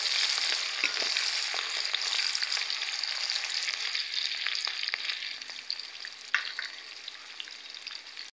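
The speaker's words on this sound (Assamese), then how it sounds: "পিঁয়াজখিনি অকণমান সময় মই ভাজি ল'ম" Chopped onions fry in a pan with a dense, continuous bright sizzle, steady and close, with a few scattered crackles and pops; no talking.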